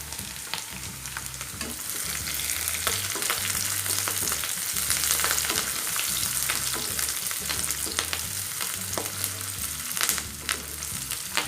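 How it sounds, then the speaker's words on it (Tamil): Onions sautéing in a pan with green chilli and garlic for a drumstick masala curry, a loud continuous sizzle and crackle with steady stirring throughout. "இப்போது வெங்காயம் நல்லா வதங்கட்டும்."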